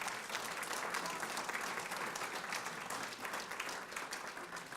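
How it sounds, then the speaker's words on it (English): Dinner guests at an honorary degree dinner applauding the catering staff, a dense, sustained round of clapping from a roomful of people, fairly faint and distant, with no break across the whole stretch. "give them a round of applause"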